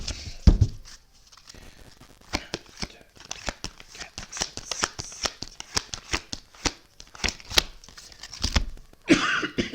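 Oracle cards are shuffled by hand in a quiet room, a run of crisp, rapid riffles and slaps that come in irregular bursts, close and clear, with no talking over them.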